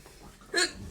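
A single sharp hiccup sounds from a person painting miniatures during a livestream, a brief voiced catch near the middle of the clip, loud and close against quiet background room noise.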